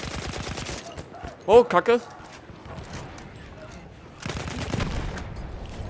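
Gunfire from the player's own weapon in Battlefield 1 on the Zeebrugge Conquest map: a quick burst of rapid shots at the start, then a denser, sustained volley near the end, with a voice briefly speaking in between.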